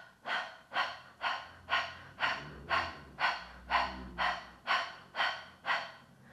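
Kapalabhati yoga breathing: about a dozen sharp, forceful exhales pushed out through the stomach at an even, quick rhythm, close and clear with passive inhales between, no talking.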